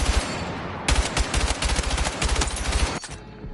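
Sustained automatic gunfire in Battlefield 6: a rapid, loud, evenly spaced stream of shots, a short burst first and then a longer volley that stops abruptly, with no voices over it.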